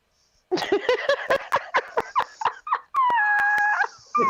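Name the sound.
dog howling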